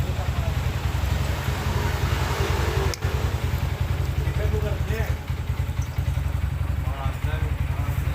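A Honda Beat Street scooter-style motorcycle engine runs steadily at idle after repairs to its starter, lights and CVT, a continuous close low mechanical hum lasting throughout, with people talking over it.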